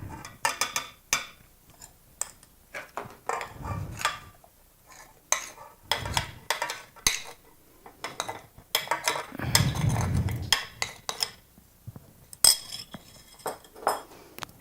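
Cream cheese and powdered sugar frosting mixed in a bowl for pumpkin bread, a utensil scraping and clinking against the bowl in irregular bursts of strokes with short pauses, close and fairly loud.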